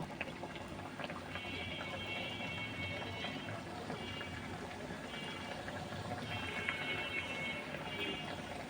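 Puli pitha fry in hot oil in a wok, producing a faint, even bubbling sizzle that runs continuously without pauses.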